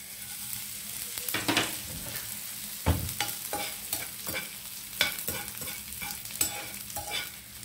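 Edible gum pieces frying in ghee in a pan give off a steady crackling sizzle, broken by repeated clinks and scrapes of a spoon stirring, all close and without voices.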